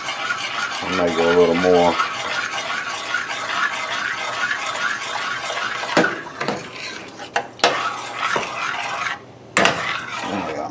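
A spoon stirring crushed tomatoes from a can in a pot, with repeated scraping and clinking of metal, sharp knocks toward the end, and someone talking briefly.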